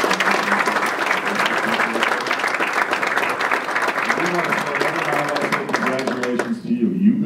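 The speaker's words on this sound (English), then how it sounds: "Let's have a round of applause for the Darley family." Audience applause during a governor's visit to the W.S. Darley company, a sustained, close burst of many people clapping with voices talking over it, ending abruptly.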